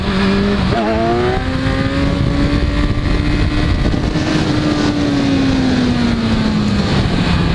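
The engine of a 2015 Kawasaki Z1000 motorcycle revs hard for a power wheelie. After a quick blip, the pitch climbs and holds at a loud, steady howl close to the microphone, then eases slightly toward the end, with wind noise throughout.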